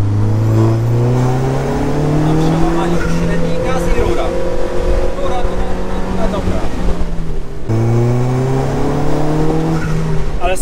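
Alfa Romeo 4C Spider, tuned to about 400 hp with nitro and weighing around 1000 kg, accelerating hard on a track: a loud engine roar climbs through the revs, drops briefly at a gear change, then climbs again.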